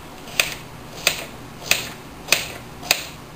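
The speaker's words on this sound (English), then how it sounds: "I'm also going to cut up this little piece of onion" Five evenly spaced sharp knife chops strike a cutting board while a small piece of onion is sliced, crisp close clicks about every two-thirds of a second with no talking.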